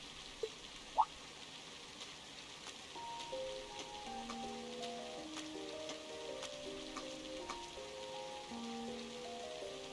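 Rain falls steadily in the video game Trails of Cold Steel, a faint continuous patter beneath soft melodic background music, with a couple of brief clicks early on and no talk.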